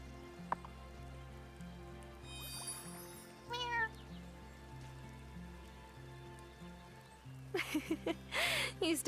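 A cat meows a few times in the video game Wylde Flowers, short chirpy cries over soft game music and pattering rain, with a louder flurry of meows near the end.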